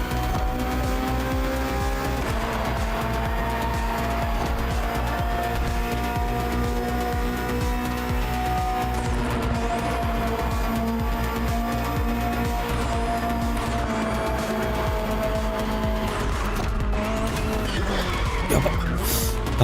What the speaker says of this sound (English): Finally, the BMW M Hybrid V8. What a beast.